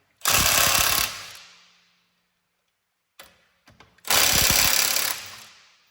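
An impact wrench loosens a transmission bolt in two loud, close, rattling bursts of about a second each, each trailing off, with small clicks and knocks in the gap between them.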